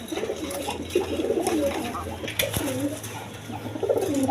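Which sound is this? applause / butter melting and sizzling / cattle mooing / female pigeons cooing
female pigeons cooing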